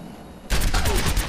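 Rapid gunfire from a training weapon in Overwatch strikes practice bots, a sudden loud burst of closely spaced shots that starts after a quiet half-second and continues steadily to the end.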